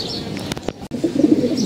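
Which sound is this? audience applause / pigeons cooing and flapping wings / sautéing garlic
pigeons cooing and flapping wings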